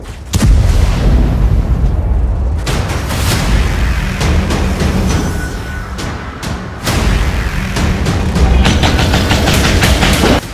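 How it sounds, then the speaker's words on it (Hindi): Israeli artillery cannons fire along the Gaza border in a rapid series of loud booming blasts, several reports tumbling over one another with rumbling echoes, heard alone without speech. "इजराइल की तोपें गरजने लगी हैं।"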